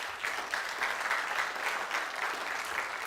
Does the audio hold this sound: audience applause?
yes